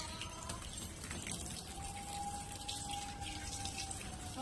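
Water runs steadily from a tap into a basin to soak items before washing, a constant close rushing splash at even loudness with a faint thin tone running through it and no talk.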